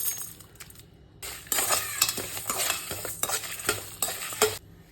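Fenugreek seeds frying in oil in a pan for a clay-pot fish curry, crackling and sizzling in bursts with stirring and faint metallic clinks, close and fairly quiet.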